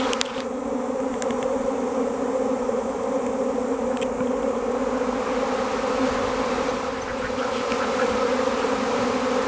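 A honey bee swarm arrives at a small nuc hive, giving a dense, steady buzzing hum that stays loud and unbroken throughout, with a few faint clicks and no voices.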